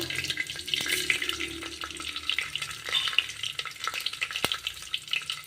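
Cinnamon, cloves and urad dal crackle in hot oil for a rice dish, a steady close sizzle with scattered sharp pops and spits throughout, no voices.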